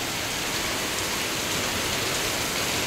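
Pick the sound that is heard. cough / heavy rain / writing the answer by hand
heavy rain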